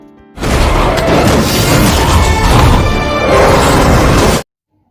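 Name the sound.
explosion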